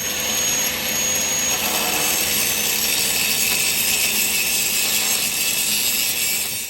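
A power tool grinds through rebar in a continuous, loud, high-pitched whine, steady throughout without a break.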